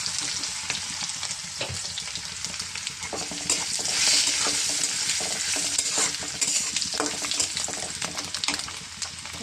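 Bay leaves, cinnamon and cardamom sizzle steadily in hot oil, stirred with a spoon scraping the pan in irregular strokes, loud and close throughout.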